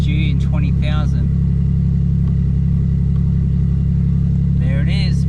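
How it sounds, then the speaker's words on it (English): A Smart Car engine, part of an off-road build, idles steadily with a strong low rumble held at constant loudness from start to end, while people talk briefly at the beginning and again near the end. "hold it in and start the car"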